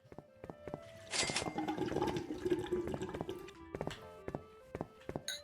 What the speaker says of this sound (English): I do want to know why it sounds like a flushing toilet.